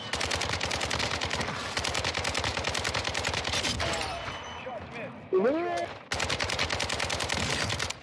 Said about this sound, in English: this RPK is shredding